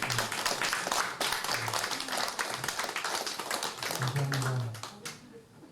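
A church congregation claps to welcome newcomers during a Sunday service, a dense run of many hands that stays loud and even, then tapers off toward the end while a voice briefly speaks.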